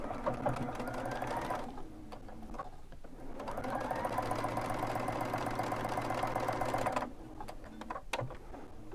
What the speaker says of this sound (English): I'm going to stitch pretty close to where those two meet, right on the edge